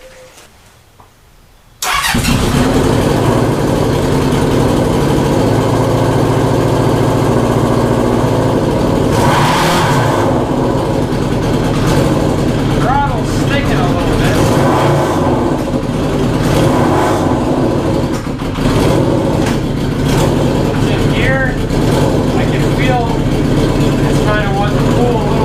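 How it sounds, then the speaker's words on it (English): A Honda CB750 cafe racer motorcycle engine cranks and fires up, then settles into a loud, steady, rumbling idle with a few throttle blips, close by, while someone talks over it. "Let's just start it up and see how it feels."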